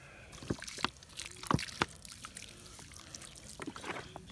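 Water from a bottle splashing and trickling onto the ground of a campfire to put it out, with soft intermittent drips and patters against quiet outdoor background.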